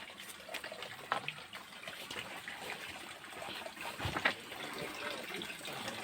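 Water flows steadily over rocks on the Velliangiri hills near Coimbatore, a continuous close trickle and gush with a few brief louder splashes and no talking.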